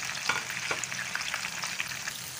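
Beef pieces for Karachi-style beef charsi sizzle in hot oil, a steady, close crackling fry with small pops and spatters throughout, no voices.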